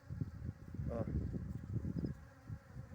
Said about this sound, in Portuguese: Ó, as abelhas.